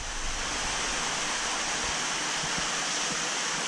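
Water flows out of a large pond toward a sand filter with a constant, loud rushing wash, steady throughout with a few faint low knocks underneath.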